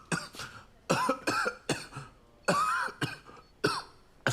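A husband and wife cough in a doctor's consulting room, giving a run of close, harsh coughs and throat clearing in irregular bursts with short pauses between them.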